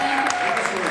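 Applause at a third-anniversary celebration stage event in Pattaya, Bangkok, a steady wash of clapping from the crowd lasting under a second, with a voice faintly carrying over it.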